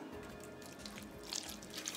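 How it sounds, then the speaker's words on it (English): Fish stock poured into a baking dish holding a striped bass stuffed with fennel, lemon, tomatoes, olives and capers; a soft, steady trickling splash that runs faint and close for about two seconds. "So now pour in some stock."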